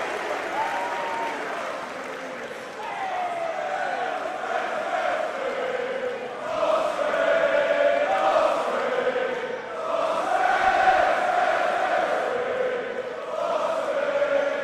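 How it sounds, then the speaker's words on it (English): A wrestling crowd at a Ricochet versus Will Ospreay match cheers and applauds loudly, with sustained roaring swells, whistles and rising shouts throughout. "This crowd is infectious with their enthusiasm"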